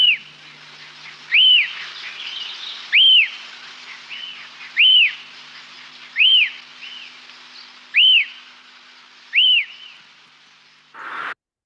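A recorded bird song of clear, arched whistled notes repeats about seven times at even intervals, each note brief and distinct over a quiet background, ending with a short harsher call.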